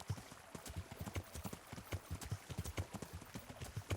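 Horse hooves clip-clop steadily in the medieval video game Kingdom Come Deliverance, a quick, even trot of soft knocks repeating several times per second at moderate level with no talk.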